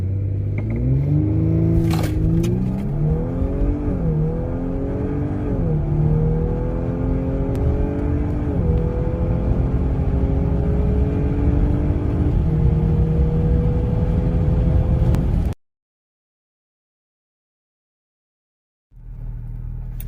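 An Audi B9 S4 fitted with a 034 Motorsport intake accelerates hard through an eighth-mile run, its engine note climbing through several gear shifts for about fifteen seconds, loud and close, before cutting to silence and then returning briefly.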